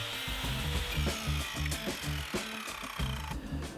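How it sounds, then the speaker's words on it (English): Power tool noise, likely a miter saw cutting wood pieces for a wooden plant pot stand, with a steady loud buzz and rhythmic repeating strokes throughout, no talking. "Then cut 4 pieces to this length, again using either a miter saw or a handsaw."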